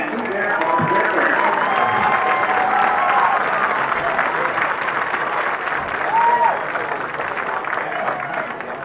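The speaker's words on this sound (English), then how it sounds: "let's give an applause for our seniors" Sustained applause from a crowd at a marching band senior recognition, dense and steady throughout, with some cheering and voices mixed into the clapping.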